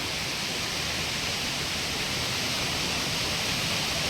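Water rushes down both sides of a stream in a steady, dense broadband roar, close and continuous with no pauses or voices.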